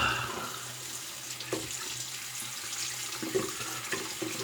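Tap water running at a sink to wet and warm a razor blade before a shave: a soft, steady splashing stream close by and fairly quiet, with a few small clinks and splatters as the blade passes under it.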